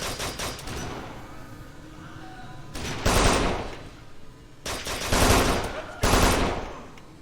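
Video game gunfire in Kane and Lynch 2: Dog Days comes in three loud, rapid automatic bursts, separated by quieter stretches of faint background mechanism noise.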